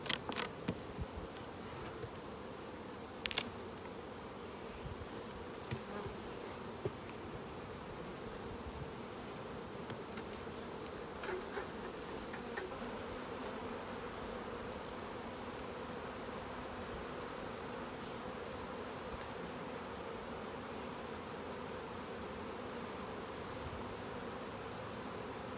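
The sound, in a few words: honey bees buzzing at an opened beehive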